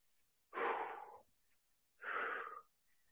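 Two heavy, forceful breaths during a morning breathing exercise, each a close, loud rush of air lasting under a second, separated by a short quiet pause.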